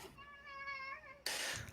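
A single drawn-out cat meow, played as a sound effect during a tabletop game, rings clearly with a wavering tone before an abrupt burst of noise cuts in at the end.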